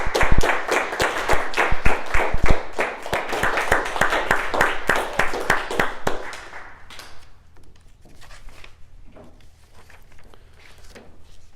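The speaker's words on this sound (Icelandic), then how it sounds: "Og svo gefum við þeim gott klapp." Audience applause at a children's book award ceremony in Iceland, loud and dense for about six seconds, then dying away into a quieter room with a few scattered claps.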